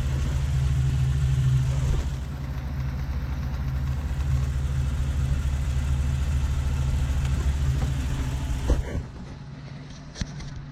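Car engine idling while warming up, a steady low rumble held for several seconds, dropping slightly in level partway through, with a few faint clicks near the end.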